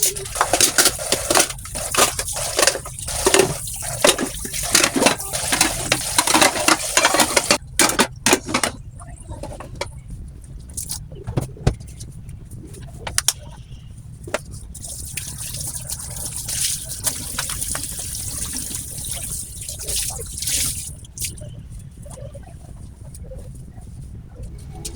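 Running water trickles and splashes while dishes are washed at home, with clinks of plates and utensils throughout. The busy clatter comes in the first third, then the washing grows quieter and more sporadic.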